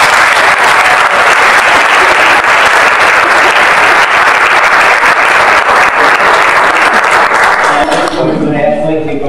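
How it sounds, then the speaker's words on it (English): An audience applauds a student named Mikey at a seniors' letter of intent signing, with loud, steady clapping for about eight seconds that then stops abruptly. "join me in giving Mikey a nice big round of applause."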